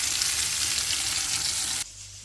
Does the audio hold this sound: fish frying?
yes